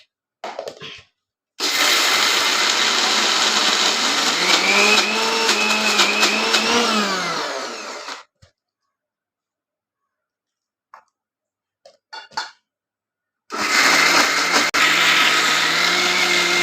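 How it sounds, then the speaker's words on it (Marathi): A kitchen mixer grinder grinds soaked moong and rice for dosa batter in two loud, whirring runs separated by a quiet gap with a few clicks and handling sounds, the motor pitch shifting as the load settles. "मिक्सरला."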